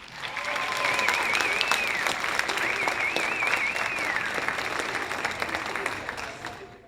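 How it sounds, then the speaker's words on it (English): Audience applause at a talent show, sustained steady clapping for about seven seconds with a few whistles rising above it, then fading at the end. "Let's give these guys another round of applause"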